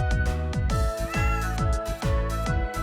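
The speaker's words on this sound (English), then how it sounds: "Oh, and I need to take care of the cat too, right?" A cat meows repeatedly, a series of clear, close, drawn-out meows in a quick uneven rhythm, heard alone with no talk.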